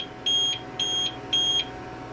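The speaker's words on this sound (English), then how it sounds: "this is going to be a long wait with that beeping" An APC Smart UPS running on battery in a server rack sounds three evenly spaced electronic beeps, each lasting about a quarter second, clear and steady over a faint background hum.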